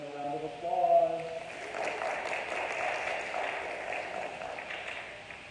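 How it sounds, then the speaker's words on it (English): Steady audience applause for the spelling bee finalists, moderately loud and sustained, opening briefly over a voice before settling into even clapping. "Let's give them a round of applause."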